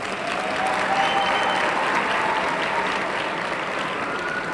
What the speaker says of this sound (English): Let's give these lieutenants another round of applause.